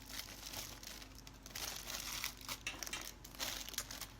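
Gift wrapping paper crinkles and rustles close by in irregular bursts, soft crackling handling sounds with no voices.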